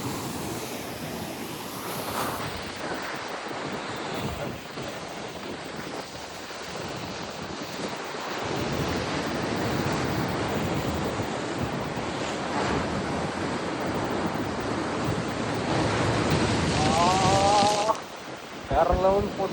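Rough sea waves pound the Pondicherry shore with a continuous loud wash of surf and wind noise that swells stronger midway, with people talking faintly under it.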